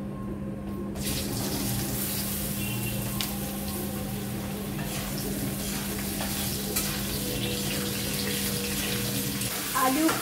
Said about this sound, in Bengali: এবারে আলুগুলো ভেজে নেবো।